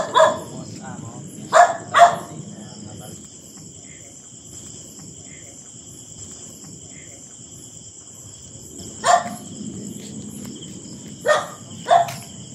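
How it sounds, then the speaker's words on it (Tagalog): Nighttime in an abandoned subdivision in Cavite, with a few scattered dog barks, short and spaced apart, coming in two clusters over a steady high chorus of crickets and insects. "maingay lang yung aso"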